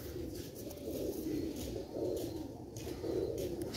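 Sialkoti pigeons coo softly, a low, rolling, repeated murmur from several birds nearby, faint and continuous with a few light chirps mixed in.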